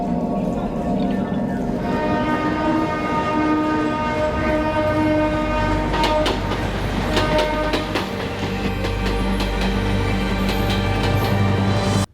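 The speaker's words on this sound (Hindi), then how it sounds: "ट्रेन चालू हो जाएगी।" A train starting off near a railway crossing, its horn blaring steadily and loud throughout, with rumbling wheels and rhythmic clickety-clack building beneath it.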